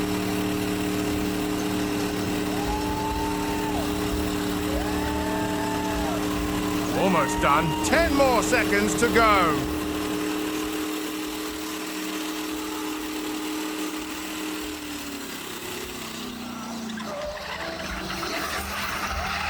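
A car engine roars under load during a burnout at a crowded motorsport event, droning steadily for several seconds before the note drops away as the engine blows; someone talks over it and cheering rises briefly.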